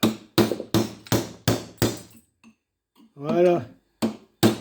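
Hammer striking a cold chisel to split iron laminations from a large transformer core, a run of sharp, evenly spaced metallic blows, a pause where someone speaks briefly, then two more strikes.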